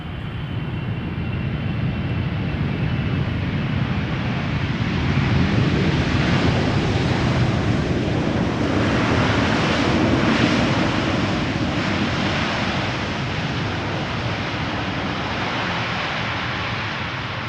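Air Canada Boeing 777-200 long range arriving at Amsterdam Schiphol from Toronto, a loud sustained jet roar swelling as it passes close, with wind noise over the microphone.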